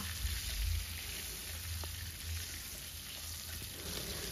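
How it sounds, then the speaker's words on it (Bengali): Cauliflower pieces seasoned with salt and turmeric fry in oil in a wok, giving a steady, soft sizzle with low clatter from stirring and no talk. "এখন ফুলকপিগুলোকে একটু লাল করেই ভেজে নেব।"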